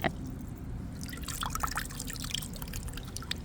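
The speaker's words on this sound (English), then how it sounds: "you take your water balloon, you stick it in the water, and you can give it a squeeze so that it soaks up a lot more." Water trickles and drips from a soaked, squeezed crochet water balloon, a run of close, light splashy drips and dribbles falling irregularly into water over a few seconds.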